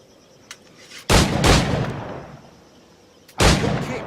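Pistol shots in Assassin's Creed 4 Black Flag ring out as two loud, booming blasts a couple of seconds apart, each with a long rumbling decay, after a faint click.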